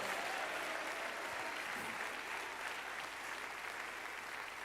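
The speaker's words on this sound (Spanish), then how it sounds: "Dele ese aplauso al Cristo resucitado." A church congregation applauds during a sermon, a faint but continuous wash of many hands clapping together, sustained evenly for nearly five seconds without voices on top.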